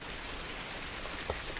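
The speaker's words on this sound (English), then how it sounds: "It started raining." Rain falls steadily at night, a soft, even hiss of drops hitting a surface, fairly faint and continuous with one slightly louder drop near the end.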